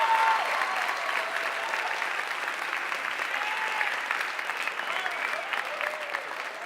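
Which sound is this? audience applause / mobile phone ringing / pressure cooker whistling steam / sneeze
audience applause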